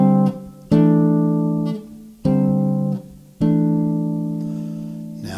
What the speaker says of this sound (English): So the first triad pair for the 1 major 7 chord, in this case in C, sounds like this, non-inverted.